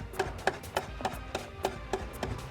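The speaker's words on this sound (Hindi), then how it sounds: "ये बीटर की मदद से इस तरह मैं जो मलाई है उसको तोड़ रही हूँ" Homemade cream being broken up in milk with a hand beater, a steady run of light, evenly spaced taps and scrapes against the bowl, close by with no voices.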